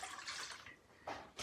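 Water poured from a measuring cup of about 2 cups into a bowl for homemade pizza dough, a soft splashing stream in two short bursts close by, with no talking.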